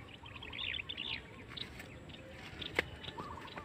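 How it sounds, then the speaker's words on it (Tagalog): Pigeons chirp and call in short scattered bursts after being released from a loft, heard against steady outdoor background noise, with one sharp brief click partway through. "Ayan na mga kalapatid oh."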